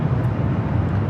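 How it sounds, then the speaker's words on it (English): A CRJ200LR regional jet taking off from the south side at LAX heads out toward Prescott, its engines giving a steady low droning roar that stays loud and even across the short moment. "CRJ200LR took off from the south side 2:05 p.m. headed to Prescott"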